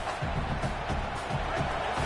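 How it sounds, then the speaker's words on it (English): Dense stadium crowd roar in an American college football video game matchup against Texas, a steady, loud wash of cheering that fills the whole stretch with no break. "Listen to this crowd just shaking the girders of this place, trying to help their defense."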